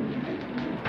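Imported fancy pigeons at a pigeon farm give soft, low coos, faint and brief, over a muffled background murmur.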